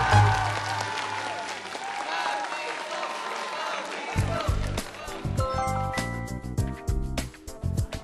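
A crowd of middle-school students bursts into loud applause during a televised science quiz, clapping strongly for about four seconds before bright studio music takes over.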